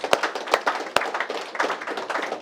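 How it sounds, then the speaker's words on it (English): Scattered hand claps from a small group at a private entrepreneur event in Los Angeles, a few sharp loud claps standing out over a dense patter of lighter clapping, fairly close. "We got Mr. Ariyan Teymouri, give him some applause."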